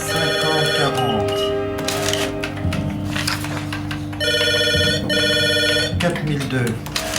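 A telephone bell rings in bursts, loud and close, over a dense layer of music and talk in an old French film about a small cinema business.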